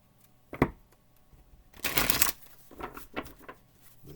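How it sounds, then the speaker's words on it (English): Oracle cards being shuffled by hand: a short riffle near the start, a louder, longer shuffle burst in the middle, then several lighter card flicks, all close and with no talking. "Get a couple of shuffles here."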